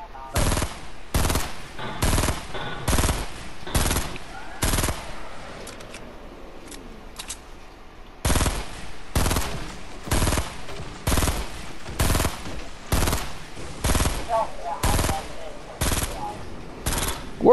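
Video game gunfire from a gun that shoots three times per load, heard as rapid sharp repeated shots in steady bursts through most of the stretch, with a brief lull in the middle.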